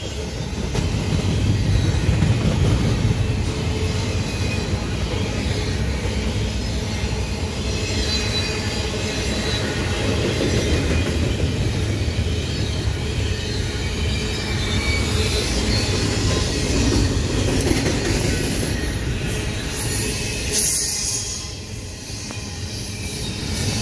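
A Norfolk Southern freight train hauling double-stack containers rolls steadily past a trackside spot in Seneca, Georgia, with loud continuous rumble, wheel clatter and occasional squeal for the whole stretch, no talking.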